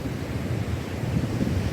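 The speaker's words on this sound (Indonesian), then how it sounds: "Kita saksikan deburan ombak yang begitu besar," Big surf at Karangdowo beach on the south coast of Malang, East Java, a continuous heavy rumbling wash of breaking waves with wind buffeting the microphone, steady and close throughout.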